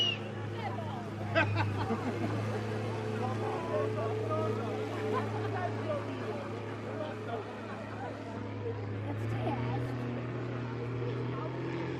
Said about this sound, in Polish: Silnik jest, nie słyszysz?